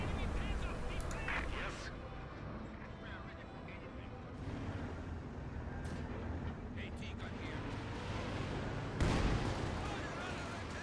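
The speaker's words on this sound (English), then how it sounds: "Barrage coming on in" An artillery barrage in Company of Heroes 2, with shell impacts and bursts of gunfire in a busy battle soundscape, a heavy hit toward the end, and talk running over the action.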